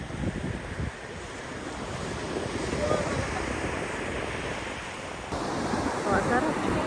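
Sea waves wash onto a beach in a continuous, close roar of surf, mixed with wind buffeting the microphone.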